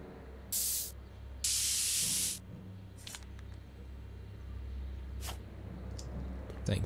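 Aerosol spray can hissing in Back to the Future: The Game, two loud bursts, a short one then a longer one, over a steady low game background hum, followed by faint clicks.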